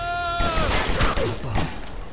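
Gunfire with anti-personnel rounds in BioShock, a short rapid fusillade of several loud shots starting abruptly after a brief tonal hum and tailing off over about two seconds.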